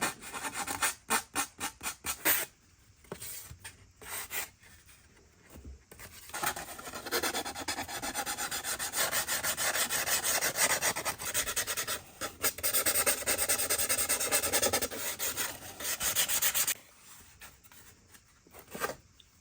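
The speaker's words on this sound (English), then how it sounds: "So I'm gonna just do some light sanding right now." Hand sanding on balsa wood: a few short rasping strokes, then long continuous back-and-forth scrubbing, close up, pausing briefly before resuming.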